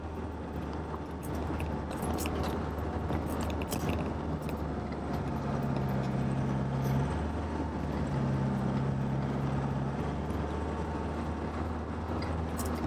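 A Land Rover Defender in third gear low range drives hard through snow with a loud, steady engine drone and rumbling drivetrain. Rattling and jangling sit over it, and a faint whine rises and falls midway.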